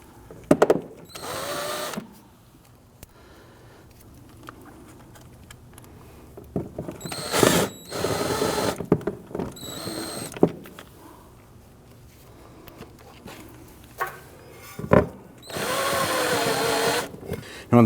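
Power drill driving plastic screws into the inner fender liner of a 2009-2017 Volvo XC60, several loud bursts of whirring spread across the clip, separated by quieter stretches of handling and movement.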